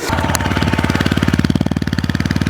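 A TVS Apache RTR 160 4V BS6 motorcycle engine idles close by, its steady rapid thumping pulse loud and even, with no talk over it.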